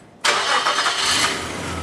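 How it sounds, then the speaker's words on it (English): A 2000 Nissan Xterra engine cranks and catches abruptly, then settles into a steady, loud idle close by. "let's start the engine and see what we have"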